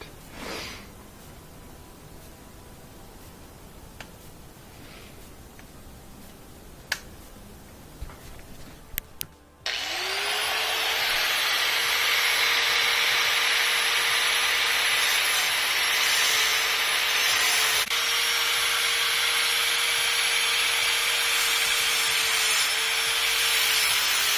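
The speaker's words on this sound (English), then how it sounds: "I use my angle grinder to carefully cut down into this metal without hitting the shaft" An angle grinder cuts into the metal spindle of a 2x72 belt grinder. After several quiet seconds with small knocks, it starts abruptly into a loud, steady, high, whining grind that runs unbroken to the end.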